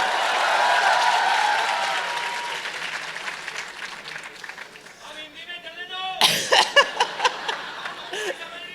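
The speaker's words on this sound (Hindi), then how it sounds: "तालियां जी, तालियां इसके लिए." Audience applause at the Jaipur Literature Festival, a broad wash of clapping that fades over several seconds, followed by scattered louder individual claps and a bit of murmuring and laughter.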